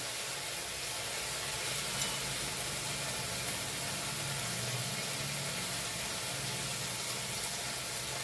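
Masala with tomato paste, salt and turmeric sautéing in a pan for Bengali chholar dal, giving a steady, dense sizzle throughout, moderately loud with no voices.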